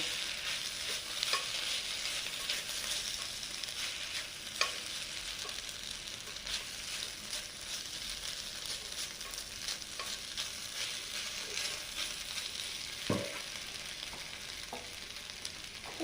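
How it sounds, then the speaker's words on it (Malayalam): Steady sizzling of spices frying in a pan, with occasional scrapes and clinks of a spoon stirring, continuous and fairly close. "ഇനി ഇതെല്ലാം കൂടെ നമുക്ക് നന്നായിട്ട് മിക്സ് ചെയ്യാം"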